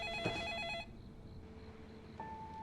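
A telephone rings with a trilling electronic warble that stops, followed by quiet room tone and then a faint steady tone, all at low level.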